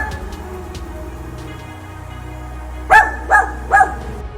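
A dachshund barks three times in quick succession, loud and close, after a stretch of quieter indoor background hum.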